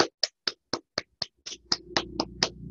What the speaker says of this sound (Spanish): También tú también mereces un gran aplauso de parte de todos nosotros.